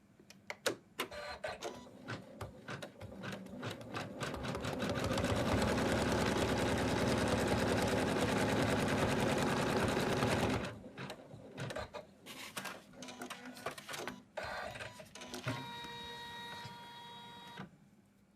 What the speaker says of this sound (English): now it's going to do a placement line for where we have to put the fabric